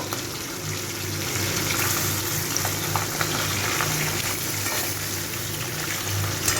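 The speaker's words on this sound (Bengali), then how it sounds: "এবার আমি এখানে মাছগুলোকে ভেজে নেব" Steady crackling sizzle of pomfret frying in a pan, continuous and fairly loud, with no voices.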